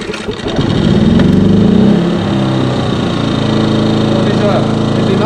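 An engine starts after the battery is disconnected, cranking briefly, then settling into a steady idle, loud and close, with a voice speaking over it.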